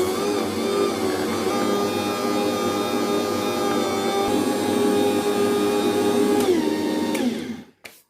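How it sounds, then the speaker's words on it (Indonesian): A mixer kneads sweet whipped-cream bread dough at raised speed, giving a steady, loud, droning motor whir with a constant hum throughout before it cuts off abruptly near the end. "ini di mixer sekitar 15 menit ya, sampai dia kalis elastis"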